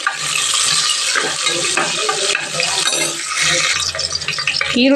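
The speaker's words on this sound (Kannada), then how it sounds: "ಇವಾಗ ಸ್ವಲ್ಪ ಫ್ರೈ ಆದಮೇಲೆ ಈರುಳ್ಳಿ ಹಾಕ್ಕೊತಾ ಇದ್ದೀನಿ" Finely chopped onions fry and sizzle in a pan with oil, a loud, close, continuous crackle broken by stirring scrapes, with no talking.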